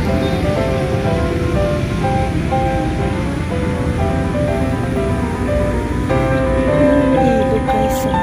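Loud, steady rush of a flowing river that continues without a break, at UP Diliman, with faint voices and other sounds mixed into the background.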